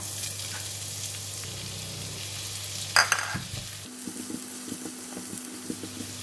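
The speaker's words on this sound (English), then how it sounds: "we'll use the same oil to fry the onions" Chopped onions frying in the same oil just used to brown garlic, for sweet, sour and spicy eggs. A steady close sizzle and hiss runs throughout, broken by a brief clatter of stirring about midway.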